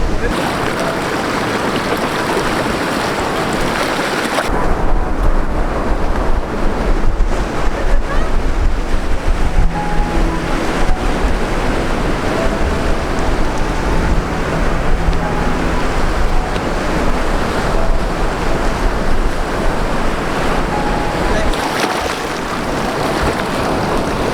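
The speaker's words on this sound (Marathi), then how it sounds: "आजूबाजूचा परिसर हा समुद्रांच्या लाटांचा आवाज हा वाहणारा वारा तुम्हीच अनुभवा" Ocean waves roll and crash continuously while strong wind buffets the microphone on the coast at Ladghar, Dapoli, a loud, steady roar with no voices.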